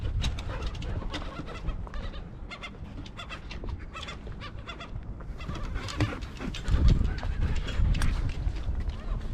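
Seagulls calling repeatedly outdoors amid steady wind and background bustle on Hwangsando island, with gull cries scattered throughout at moderate distance.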